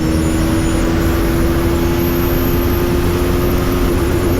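Bajaj Pulsar NS400Z motorcycle running hard at speed, its engine tone droning steadily and loudly under constant wind and road roar, with no voices over it.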